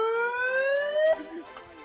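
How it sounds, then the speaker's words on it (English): A megaphone's rising electronic siren wail sweeps upward steadily, then cuts off abruptly, leaving faint background noise. "The 3000 comes with a siren."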